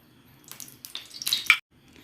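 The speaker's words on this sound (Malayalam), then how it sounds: "അത് നന്നായിട്ട് ചൂടായി കഴിഞ്ഞപ്പോൾ 2 ടേബിൾ സ്പൂൺ എണ്ണ ഒഴിക്കുവാണ്." Two tablespoons of oil are poured into a heated pan for dal makhani, a short close splashing and trickling that builds over about a second, then stops abruptly, with no talk.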